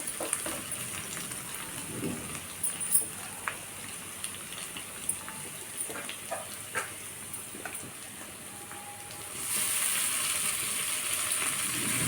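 Shepu bhaji, fresh dill greens, sizzling and crackling as they are sautéed in a hot pan, a steady fry noise with scattered pops and stirring clinks that grows slightly louder near the end, with no talking.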